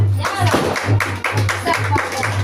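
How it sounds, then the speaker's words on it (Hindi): A church congregation claps in a strong, even rhythm, roughly two claps per second, loud and close, over a droning low keyboard note. "जो से ताली बजाएं।"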